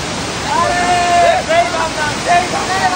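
Roadside waterfall where people are bathing, a steady broadband rush of falling water filling the scene, with voices and shouts of bathers rising over it at moments.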